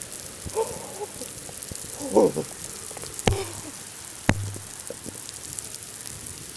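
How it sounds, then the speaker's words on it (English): Heavy rain falls in a dense, constant hiss, with a few sharp close knocks and brief voice-like sounds breaking through the steady wash. "So, it was light rain, but this time it's heavy rain, so I'm going in."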